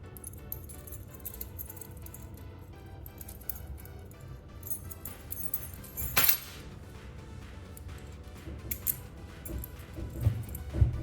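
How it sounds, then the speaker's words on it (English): Metal house or car keys clink and jangle in a few short bursts near the microphone, with one sharper rattle midway, set over a low steady background hum. "let's use something you've probably got in your pocket right now, a pair of metal keys"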